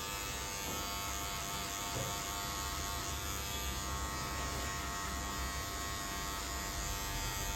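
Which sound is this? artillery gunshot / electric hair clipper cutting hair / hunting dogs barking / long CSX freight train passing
electric hair clipper cutting hair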